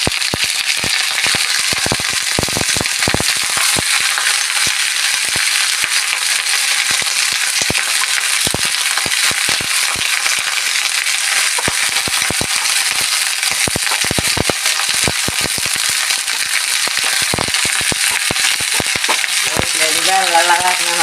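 Curry leaves fry in a pan, a dense, steady sizzle filling the whole stretch with frequent sharp crackles and pops, close and loud.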